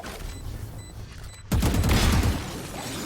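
A sudden loud burst of rapid gunfire in a competitive esports shooter match erupts midway through a quiet stretch, then rings out and fades.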